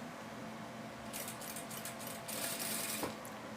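A sewing machine stitches along the hem border of a cotton dish towel, a faint mechanical whir that starts about a third of the way in and runs steadily, with brief buzzing bursts near the end and no talking.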